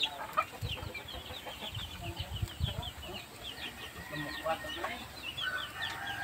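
A live Aseel chicken clucks and squawks repeatedly in short bursts, close and fairly loud, over rustling and low background noise at a home kitchen just before slaughter and scalding.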